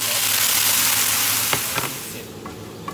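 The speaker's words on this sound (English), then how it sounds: "Fry the egg and the onion bring the flavor out." Egg and onion frying in a pan make a loud, close, steady sizzle that eases off toward the end, with a few sharp utensil clicks.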